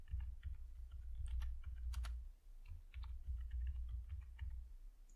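Steady typing on a computer keyboard, a continuous patter of small key clicks with brief pauses, fairly quiet and close, no voices over it.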